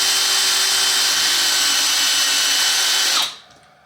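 A power drill whirs loud and close in one steady high-pitched run, driving screws to mount a wig wall, then winds down and stops abruptly near the end.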